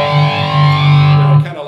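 An electric guitar plays through a Fender Mustang amp with a phaser effect, a loud sustained chord swirling and shifting before it cuts off near the end.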